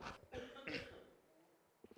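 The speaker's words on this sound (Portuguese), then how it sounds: "já matei os de casa aí com a tosse que eu dei agora" A person coughs a few times close to the microphone during a spoken lesson, giving harsh bursts that fade into quiet, followed by a couple of small throat sounds.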